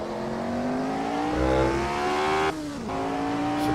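Engine of a Lola T290 open-top racing car at Goodwood in Assetto Corsa, a steady, loud mechanical drone that rises in pitch as it accelerates, then drops briefly at a gear shift before climbing again, with no talk.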